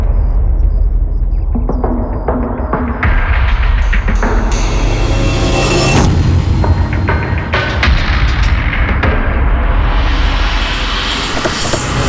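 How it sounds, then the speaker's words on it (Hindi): A bomb explosion in a crime drama scene, heard as a loud, dense blast with heavy rumbling booms and crackling debris that fills the whole stretch without letup. "बम।"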